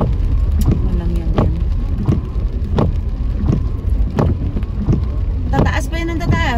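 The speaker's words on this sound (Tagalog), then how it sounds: "hindi titigil tong ulan na to" Heavy monsoon rain pours steadily during the habagat season, a dense continuous hiss with scattered sharper splashes and knocks, while people talk nearby throughout.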